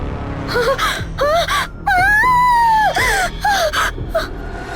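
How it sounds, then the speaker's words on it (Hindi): A woman lets out a long series of high, wavering screams and wails, loud and close, with short gasping breaks between them. "ये देखते ही रिया घबरा जाती है और जोर से चीख पड़ती है।"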